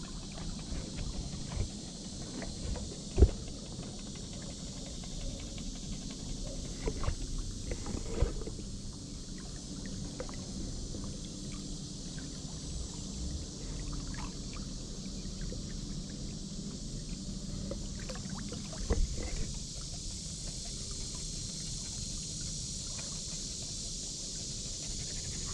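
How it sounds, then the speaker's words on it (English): Strong wind gusting over open water around a small boat or kayak, a constant broad rushing hiss and rumble with occasional light knocks, near the microphone and steady throughout. "since the wind is blowing mighty hard"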